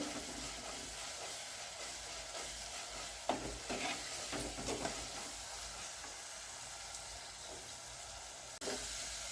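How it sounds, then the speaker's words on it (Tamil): Fish curry masala sizzles and fries in a pan while being stirred, a steady close hiss with occasional scraping strokes from the spoon and no talking. "பாருங்க நல்லா வதங்கிடுச்சு, சூப்பராக வதங்கிடுச்சு"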